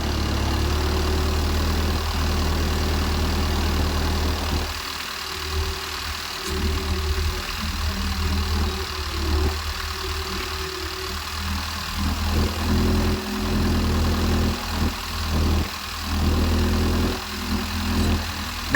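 A Mekong River ferry's diesel engine idles near Tha Phanom, chugging steadily and loudly at a low throb for the whole stretch, with a faint rumble and uneven pulsing underneath.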